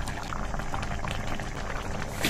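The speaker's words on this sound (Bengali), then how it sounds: "ভেজে রাখা মাছটা দিয়ে কিন্তু আরও 2 মিনিট ফুটিয়ে নেব" Tilapia fish curry with eggplant and potato bubbling steadily in a pot, a continuous close boil with dense popping bubbles and no voices.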